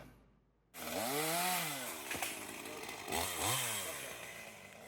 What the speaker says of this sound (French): C'est à la tronçonneuse qu'il faut se frayer un passage dans la brousse.